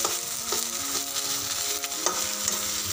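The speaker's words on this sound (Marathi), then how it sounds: "हे चांगलं परतून घेऊया" Tomatoes sautéing in a pan for a brinjal-potato curry, a continuous close sizzle with intermittent stirring scrapes and light clinks, and no speech.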